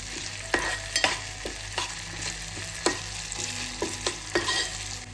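Crushed garlic and ginger frying in a pan with cooked onion and tomato, a steady close sizzle with repeated sharp scraping stirs of a spoon at uneven intervals; no voices.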